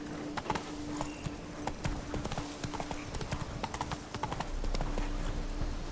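Hooves of Roach, the horse in The Witcher 3, clip-clop in a fast, steady galloping rhythm over several seconds, with a low rumble building toward the end.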